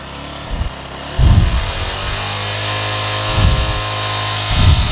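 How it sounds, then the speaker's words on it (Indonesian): A Yamaha motorcycle engine idling and being revved, with low thumping bursts of throttle at intervals over a steady running hum, close by. "Coba saya geber,"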